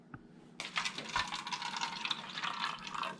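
Acetone and water poured into a styrofoam cup in a school lab, a close splashing, trickling pour that starts abruptly after a small tap and runs steadily for a few seconds.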